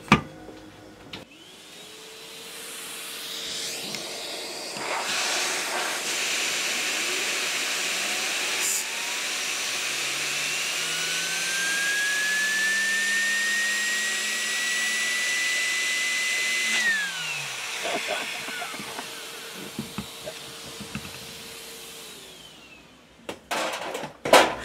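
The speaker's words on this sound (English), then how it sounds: "I'm going to put a vacuum cleaner hose right on there" A vacuum cleaner blows air through its hose, roaring steadily for about twenty seconds, its pitch rising and wavering as airflow changes, then winds down with a few clunks at the end.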